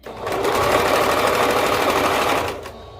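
A domestic sewing machine stitches elastic in one steady burst, its fast motor whir and rapid needle chatter lasting a couple of seconds before stopping, close and fairly loud with no talking.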